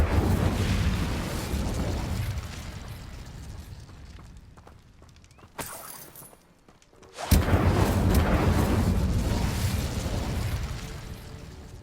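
Incendio fire spell cast in Hogwarts Legacy, a loud continuous roaring burst of flame that breaks off abruptly, then surges back just as loud after a short lull.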